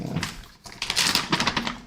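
A dog whimpers and whines in short, high, nasal bursts while waiting for a soft chew treat, the sound fairly close and rising in intensity toward the end.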